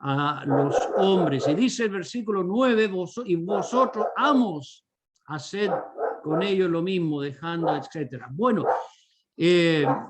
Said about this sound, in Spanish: disculpen por el ruido de fondo que tenemos esta noche. Estos perros están medio molestos